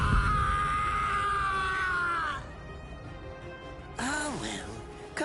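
A drawn-out, strained male cry of pain from a Bleach anime-style game, loud at first, then fading into a lower murmur before a second, shorter wail breaks out.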